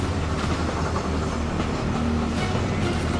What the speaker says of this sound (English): How long is this train? It's a never-ending train